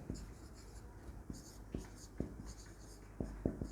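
Pen or chalk writing notes during a physics lesson on vectors, quiet scratching strokes with a few sharper taps, heard faintly alongside a teacher's speech.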